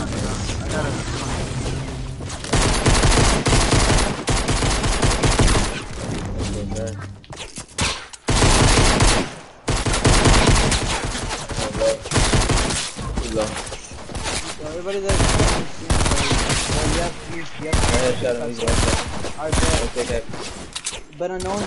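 Rapid video-game gunfire rattles in dense bursts almost throughout, with brief pauses near the middle, loud and close, mixed with game effects while people talk over it.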